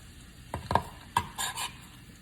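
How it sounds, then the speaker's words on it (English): Onions and peppers cooking in a pan, with a few distinct stirring scrapes and clatters over a faint sizzle, heard close and alone. "I'm gonna let you see those glorious onions and peppers cooking"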